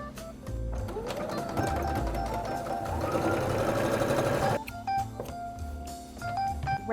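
Sewing machine running steadily as it stitches straight seams along curtain fabric for Japanese noren panels, a continuous close whir that pauses briefly near the end and then resumes.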